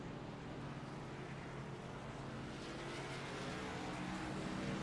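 Race cars at Sonoma finishing their last lap: a continuous, distant engine drone with a broad, steady roar and slight swells, no distinct pass-bys.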